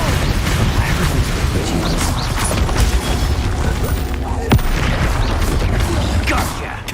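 Confringo explosive spell blasts cast in Hogwarts Legacy, loud booming bursts and crashes piled over busy combat noise, with a sharp hit partway through and a voice now and then.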